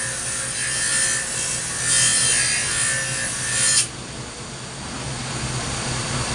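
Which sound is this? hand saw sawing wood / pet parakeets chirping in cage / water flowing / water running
hand saw sawing wood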